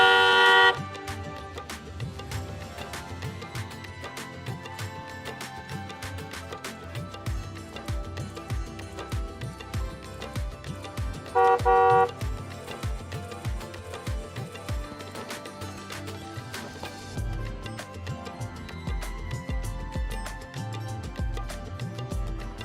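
A car horn honks at goats wandering on a road, sounding in short blasts at the start and again midway, over a steady background of dramatic music.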